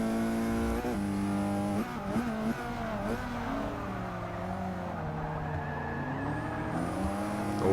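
Race cars scream and accelerate in a drag race in the video game Forza 6, sustained loud engine whine with rising and falling revs and gear shifts, without voices.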